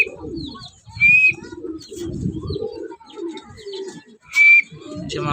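Pigeons at a club training coo repeatedly in low, throaty rolling phrases close by, with two brief high whistling chirps cutting in, with no voices.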